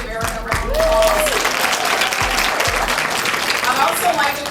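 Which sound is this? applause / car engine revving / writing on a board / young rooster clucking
applause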